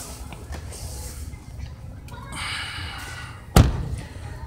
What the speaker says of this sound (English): I like the way the door shut nice.